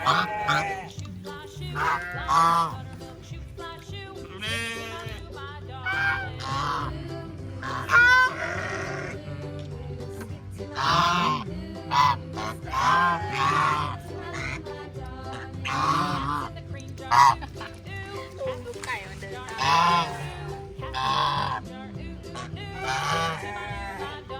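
A large flock of ducks climbing out of the water onto land quacks and honks continuously, many birds calling at once in overlapping bursts, fairly close and loud.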